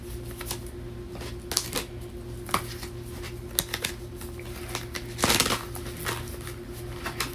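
Repeated papery flicks and riffles of cards being shuffled close by, irregular bursts over a steady background hum, one busier flurry near the end.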